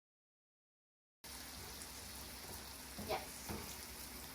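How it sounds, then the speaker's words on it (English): Butter melting in a hot pan for butter garlic shrimp gives a steady, soft sizzle that begins abruptly and continues evenly, with a brief louder crackle near the end and a voice speaking over it. "Let's wait until the butter melts."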